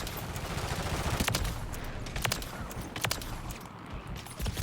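Rapid gunfire from a shooter video game, a string of sharp cracking shots over a constant loud background of game noise, several distinct bursts spaced through the stretch.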